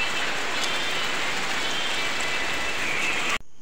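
Steady, dense rain pours down on a surface during hot weather, a constant hiss that fills the scene before cutting off abruptly near the end.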